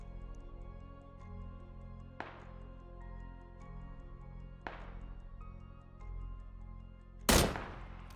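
Gunfire in PUBG on Xbox: a few distant, sharp shots spaced seconds apart, then one louder, closer burst near the end over a low game ambience.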